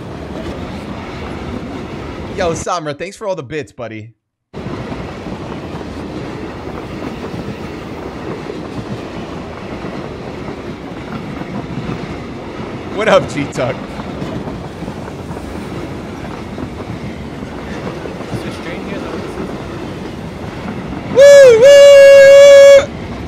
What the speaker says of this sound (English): Bro, tell me how they put trains on Vikendi.